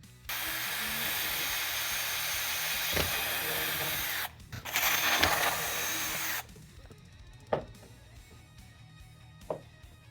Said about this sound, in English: let's drill some holes in the pack